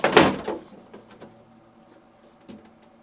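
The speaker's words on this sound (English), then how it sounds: "To install the lower drawer, insert it at an angle, making sure it sits beneath the support glide rail." A GE refrigerator's lower freezer drawer is angled in beneath its support glide rail: a loud plastic clunk, a second knock, then a few faint scattered clicks and taps as it settles.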